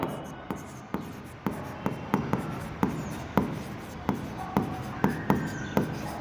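A pen writes savings bank account entries by hand on paper, giving a series of short scratchy strokes and taps at an uneven rhythm, close and clear with no talking.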